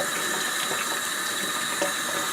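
Steady stream of water from a Delta kitchen sink faucet rinsing a crumbling aerator screen, a continuous close broadband hiss with no talking.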